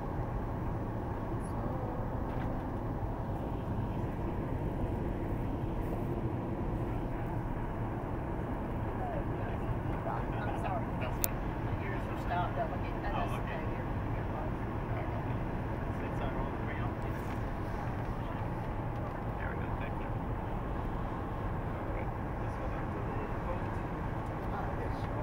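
Steady, dense airplane cabin rumble as a passenger jet descends to land, a continuous low engine and airflow roar that stays even and unbroken throughout, with no clear speech over it.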